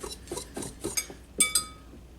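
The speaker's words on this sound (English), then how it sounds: "I'm just going to give this a good mix." Spices for a dry rub being mixed in a bowl: a run of light scraping and clinking strokes, with a couple of brighter metallic chinks, close and fairly quiet.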